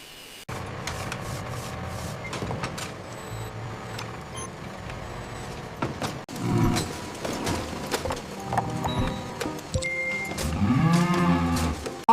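Grey dairy cows moo low and drawn out in an echoing indoor space, mixed with rubbing and scraping noise and clattering, and the calls grow stronger toward the end.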